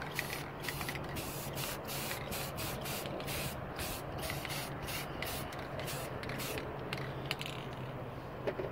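A can of black spray paint sprays around a stencil for spray paint space art in short, repeated hissing bursts with brief gaps and a faint rattling click between them, close and fairly quiet.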